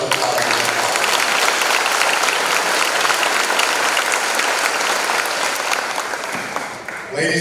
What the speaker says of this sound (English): So give yourselves a little applause.